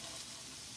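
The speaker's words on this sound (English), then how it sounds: "You hear the sizzle." Sliced kielbasa sizzles in a skillet, a steady close frying hiss with no talking.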